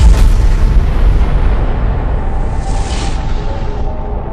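A deep, booming explosion effect standing for the Big Bang at the beginning of the universe, loud and sustained with rumbling low roar from the start, slowly fading over a few seconds.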